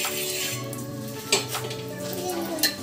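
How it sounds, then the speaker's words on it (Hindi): Ghee poured onto a hot tawa griddle while cooking methi paratha gives a soft, steady sizzle, with occasional metallic clinks of a utensil against the pan and background music underneath. "अब हम तवे पे थोड़ा सा ऐसे घी डाल देंगे"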